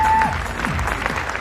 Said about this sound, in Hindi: एक बार जोरदार तालियां इनके नाम पर बननी चाहिए।